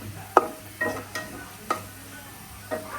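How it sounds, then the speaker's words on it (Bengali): Onions frying into birista in oil left over from frying chicken, a steady soft sizzle with a few sharp stirring clinks and scrapes spread through the moment, close by and without talk. "মুরগি যে তেলে ভাজছে ওই তেল দিয়ে বেরেস্তা করা হচ্ছে"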